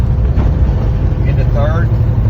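A 1966 Ford Fairlane fitted with a Cummins diesel accelerating in second gear, a loud, heavy, steady low engine rumble heard from inside the car, with a voice briefly speaking over it.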